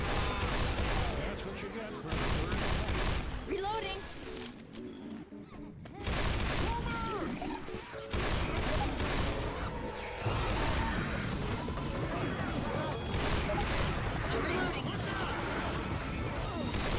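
Gunfire from shooting zombies in the co-op video game Left 4 Dead 2, dense and continuous bursts with crashes and impacts throughout, a brief lull near the middle before the loud firing resumes.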